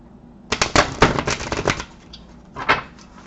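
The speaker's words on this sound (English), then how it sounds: "these cards are thick, and believe me, they are so hard to shuffle" Thick tarot cards being shuffled, a burst of dense riffling clatter after a brief quiet start, pausing and then returning for a shorter flurry, close and fairly loud with no talking.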